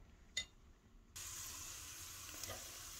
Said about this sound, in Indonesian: Kita lanjut goreng-goreng ya.